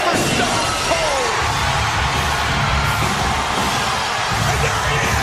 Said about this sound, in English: this crowd coming alive, chanting for Stone Cold